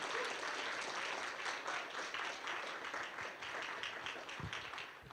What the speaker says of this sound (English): could we get a round of applause for all 6 of the nominees and their readers?